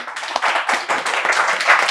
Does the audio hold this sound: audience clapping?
yes